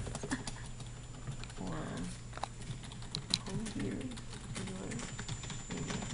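Keyboard typing at a computer indoors, a steady patter of keystrokes running throughout at moderate distance, with a low background hum and faint bits of voice in places.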